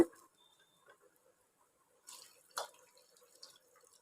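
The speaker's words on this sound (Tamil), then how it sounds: "இப்போ இதுக்கு நான் தண்ணி ஊற்றிக்கிறேன் கீரை நல்லா வேகிறதுக்கு" Water splashes faintly into a pan of cooking amaranth greens in a home kitchen, a couple of soft pours and drips after a quiet stretch.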